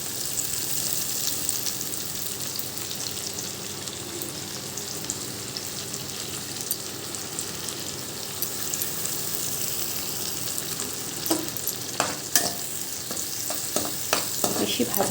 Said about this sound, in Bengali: যতক্ষণ ভাজা হচ্ছে পেঁয়াজ আর টমেটোটা তেলেতে